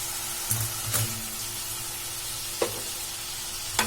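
Boiled potato pieces for a spiced potato fry sizzle steadily in a pan, a constant soft hiss broken by a few brief clatters and stirring knocks.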